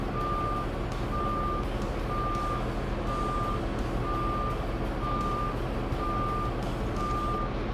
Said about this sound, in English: So I keep getting the reverse beeps.